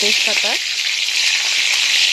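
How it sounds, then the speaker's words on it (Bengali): Bay leaves and dried chillies hit hot oil with a loud, steady sizzle and hiss that runs throughout, with a brief voice early on. "তেজপাতার জল ছিল বলে এতটা শব্দ হচ্ছে"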